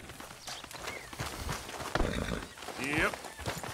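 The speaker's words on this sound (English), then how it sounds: "That's not my horse!" A horse in Red Dead Redemption 2 clip-clops along with a brief neigh near the end, heard under ongoing game dialogue and ambient outdoor sound.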